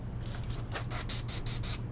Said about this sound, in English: So I could just kind of spray this in